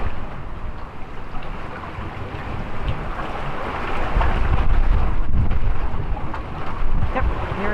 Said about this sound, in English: I think we're going to get a big gust here.